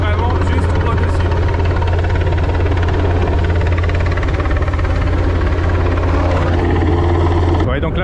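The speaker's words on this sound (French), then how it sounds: "Et l'hélico est carrément venu," A helicopter hovers directly overhead above a sailboat at sea, its steady loud rotor drone and engine hum filling the air while a person talks underneath.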